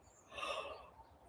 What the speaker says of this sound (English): So taking one more deep breath on this side.